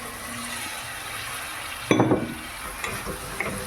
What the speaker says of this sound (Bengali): মিক্সড হওয়ার পরে এবার ভেন্ডিগুলো ছেড়ে দেব।